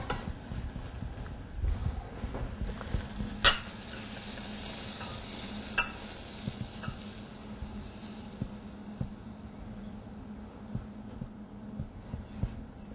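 Braised Korean potatoes (gamja-jorim), seasoned with sliced green chili, pepper and chili flakes, are stirred in a pan, giving soft sizzling under irregular scraping and clinking from the utensil. The sounds are close, with no talking.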